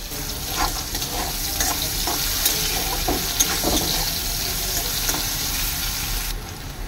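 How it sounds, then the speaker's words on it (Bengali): Steady oily sizzling of bitter gourd frying in a pan, continuous crackle with occasional spatter pops throughout, no voices. "দেখো ভাজা হয়ে গেছে আমার উচ্ছেটা।"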